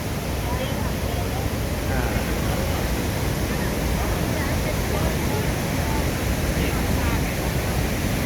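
Niagara Falls roaring as a steady, loud broadband wash of falling water, constant and unbroken throughout without any speech.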